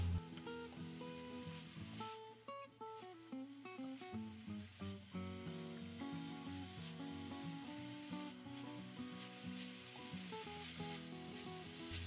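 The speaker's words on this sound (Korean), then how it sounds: "강불에서 마늘향이 올라올 때까지 도라지를 볶아줍니다." Bellflower root and minced garlic are stir-fried in a pot over high heat, making a faint, steady sizzle that sits under a soft musical background.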